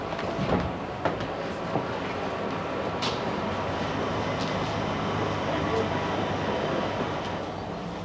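A train rumbles steadily at Island Gardens station, with continuous rolling noise, a few sharp clicks and clatters, and a voice talking faintly underneath.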